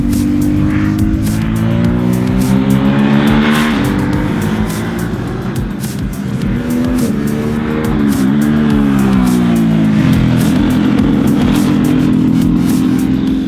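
Ducati SuperSport motorcycle engine at full song on a wet race track, a loud continuous roar with rising and falling revs as it accelerates and shifts, close and steady throughout.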